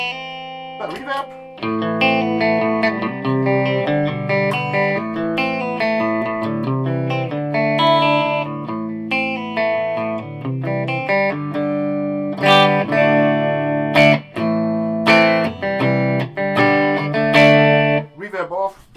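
An electric guitar plays through an amp with reverb, picking out chords and single notes with ringing tails and short pauses between phrases, loud and close.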